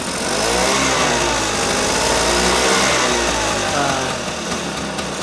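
Vespa scooter engine being throttled revs loudly and close by, a continuous buzzing two-stroke drone that rises and holds for several seconds before easing slightly; nobody talks.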